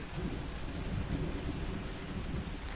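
Thunder rumbles low and steady through heavy rain just after a lightning flash directly overhead, a dense continuous roar with no voices.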